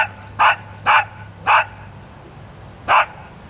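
A trick dog performing at a golf club event barks out answers to math questions: four sharp, loud barks, the first three evenly spaced and the last after a longer pause, over a quiet background.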